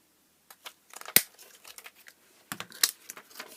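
Scissors snip a paper circle into leaf shapes for a folded card, giving close, sporadic crisp cuts and light paper crinkles with short pauses between.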